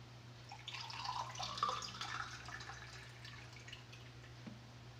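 Water is poured from a pickle jar into a drinking glass in a soft, brief trickle of splashing liquid that swells and then fades, faint against a steady low hum.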